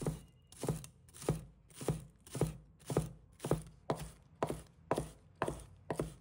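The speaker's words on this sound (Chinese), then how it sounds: "准备几根小葱，把它切成葱花。" Spring onions chopped into small scallion pieces with a knife on a board, about a dozen crisp, evenly spaced chops at a steady rhythm, close and clear with no talk.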